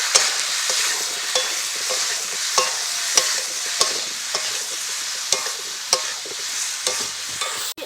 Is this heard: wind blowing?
no